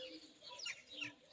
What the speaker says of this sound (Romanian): Cu găini, cu animale, cum ați auzit, cu câini.